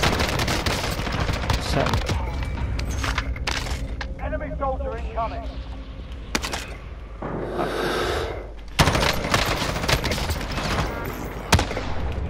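Gunfire from a shotgun in the Call of Duty: Warzone battle royale game, sharp loud blasts scattered through a busy mix of game noise, with people talking over it.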